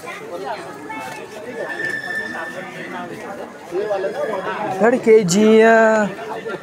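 A horse whinnies loudly near the end, a rising and falling neigh at a rainy hill-station picnic spot, coming after several seconds of people chattering nearby.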